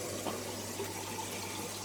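Water pours gently from a tipped container into an aquarium tank, a quiet, steady trickling gush close by.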